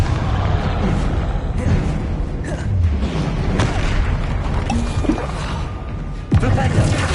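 Confringo explosion spells going off in Hogwarts Legacy, loud rumbling booms and crackling blasts layered over steady game noise for several seconds, with a sharp thump near the end.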